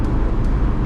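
Austin Maestro car driving on the road, a steady, continuous engine and road rumble with broadband noise, heard from inside the small car without any talk.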